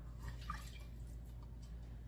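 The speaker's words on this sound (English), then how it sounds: "2/3 cup of just plain old water." Plain water pours into pumpkin bread batter in a bowl, a quiet, brief trickle with a few soft drips over a low background hum, no voices.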